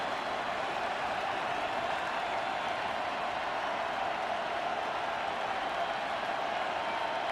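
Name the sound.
football stadium crowd cheering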